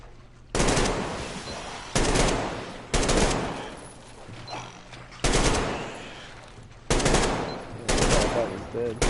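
Loud bursts of automatic gunfire from the video game Metro Exodus come in six separate volleys, each about a second long and split by short quiet gaps, close and harsh throughout.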